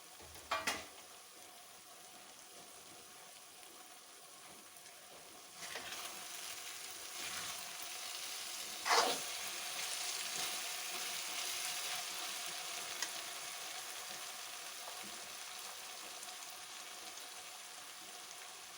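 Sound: okra (bhindi) frying and sizzling in pan

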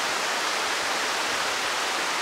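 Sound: river flowing below

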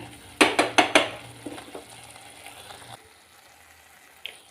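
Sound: masala spice paste frying in a pan

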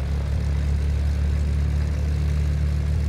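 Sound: Ikarus C42 light aircraft taxiing, FSX flight simulator video game

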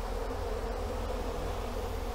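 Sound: honeybees buzzing

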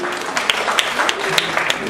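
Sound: audience applauding to welcome guests at a meet

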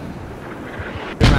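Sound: mortar salvo firing in a war video game

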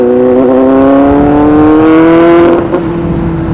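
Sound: Kawasaki Z800 motorcycle with SC Project exhaust revving

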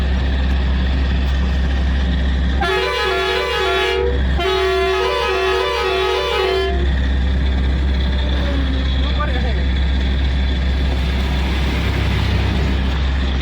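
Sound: red state transport bus passing the truck

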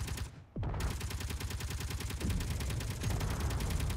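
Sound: gunfire from enemies in a video game, Underground Alone

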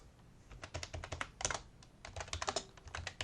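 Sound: typing on a computer keyboard, pressing space

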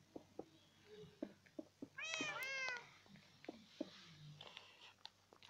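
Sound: cats meowing in Minecraft video game

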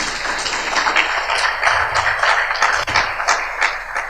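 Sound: audience applause

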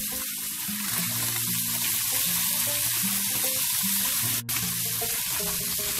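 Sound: frying golden threadfin bream fish in pan

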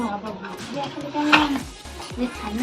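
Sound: toy cooking pots and spatula clattering

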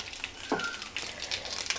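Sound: curry leaves and urad dal sizzling in hot oil

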